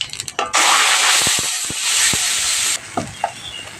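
Onions hitting hot oil for a mashed pointed gourd dish set off a loud, steady sizzle that rises sharply and runs for a couple of seconds, with a few stirring clanks, then cuts back to quieter pan noise.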